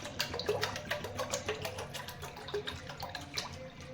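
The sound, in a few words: cold water being poured into a container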